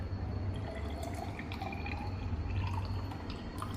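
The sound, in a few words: pouring 50 ml of distilled water into container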